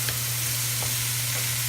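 Tomato rice mixture sizzling steadily in a pan while being stirred, a constant close frying hiss with a few soft scrapes, no voices.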